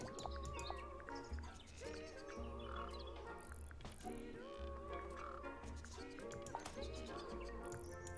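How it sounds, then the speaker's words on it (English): Bright bird chirps and tweets sound in the video game Tangle Tower, scattered over a bed of tonal game music with low croaking notes beneath. "How do I get the birds to make noise?"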